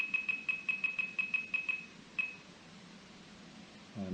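An OpenTX radio transmitter gives a rapid, evenly spaced run of about nine short, quiet beeps, then a single beep after a brief pause, followed by near silence.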